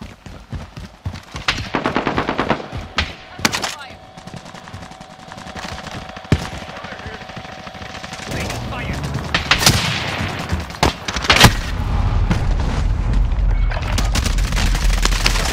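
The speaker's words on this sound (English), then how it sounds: "Taking fire!" Gunfire fills a Warzone payload match, with rapid automatic bursts, single shots and booming explosions of varying loudness. Game voice callouts sound over the action, and a low rumble builds toward the end.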